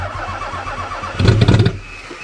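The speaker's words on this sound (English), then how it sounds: "so I'll try to start it" A 1991 Toyota Camry with a bypassed clutch safety switch cranks in winter cold, a short rough burst of starter and engine noise that rises loud for about half a second and then fades back to idle rumble.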